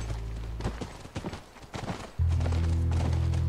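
A horse's hooves clip-clopping in The Last of Us, with a quick run of close, sharp hoof strikes, then a sudden steady engine-like hum taking over partway through.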